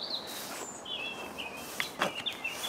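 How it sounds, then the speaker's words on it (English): Birds sing in a garden in the morning with thin, high chirps and short whistled phrases, fairly faint against quiet background air. "I've got the birds singing with me."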